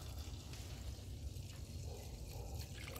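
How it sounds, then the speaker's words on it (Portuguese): Mineral spirits poured into a small pot for cleaning a varnish-coated brush, a soft continuous liquid trickle heard steadily for about three seconds at low level with no talking. "Pega um potinho, coloca um pouquinho de água raiz, ó."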